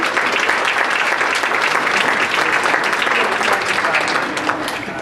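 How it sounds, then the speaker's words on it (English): A school audience of parents gives the teachers a round of applause: loud, dense, continuous clapping from many hands that holds steady throughout and eases slightly at the very end. "could we give our teachers a round of applause, please?"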